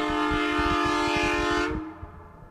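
A Pennsylvania railroad train horn sounds a loud, sustained multi-note chord up close over a rhythmic rumble and clatter of rolling wheels, then cuts off abruptly, leaving the fading rumble.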